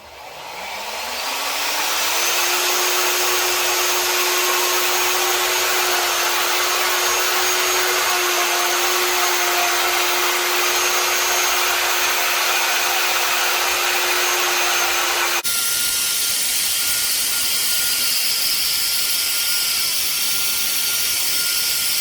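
A wood router cutting a wooden pie-crust table top whines steadily and loudly at high pitch for over twenty seconds, with its tone shifting partway through, and no voices.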